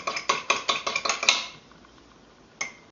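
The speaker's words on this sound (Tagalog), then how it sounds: "mix the vanilla extract and coconut milk together" Spoon clinking repeatedly against a bowl while stirring vanilla extract and coconut milk, a quick run of about eight sharp, close taps that fades out, followed by one last isolated clink.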